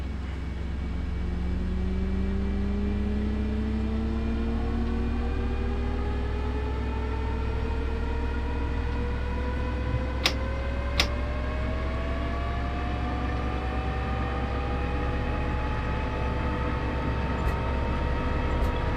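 Engines of a JARDesign A340-500 airliner in a flight simulator spool up with a steady, rising whine over a constant low rumble, and a couple of sharp clicks stand out partway through.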